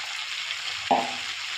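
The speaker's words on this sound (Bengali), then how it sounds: "মাছগুলো সব ভাজা হয়ে গেছে আর মাছের মাথাটা ভাজছি" Steady hiss of a fish head frying in hot oil, with a brief knock or stir partway through.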